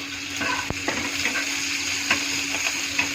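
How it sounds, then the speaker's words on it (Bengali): Cloves and cardamom drop into hot oil with panch phoron tempering, a steady moderate sizzle with small crackles and a few stirring scrapes near the pan. "ফোড়নটা একটু নেড়ে চেড়ে ওর মধ্যে 2 টুকরো লং আর এলাচ ঢেলে দিব।"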